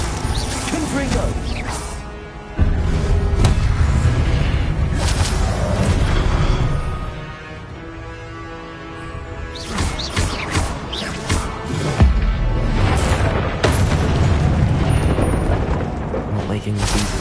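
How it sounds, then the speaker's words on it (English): Confringo blasting spell explosions in the video game Hogwarts Legacy, heavy booms and crashing impacts in repeated bursts amid battle clatter and music, with a voice calling out spells. "Confringo!"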